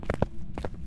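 Ghost footsteps during a hunt in the horror game Phasmophobia, a quick run of muffled thuds heard close in a brief burst, no voices over them.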